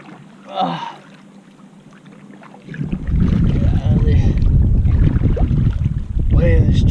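Wind buffets the microphone while kayak fishing on Falls Lake, a loud steady rushing roar that rises after a quieter start, with someone talking over it.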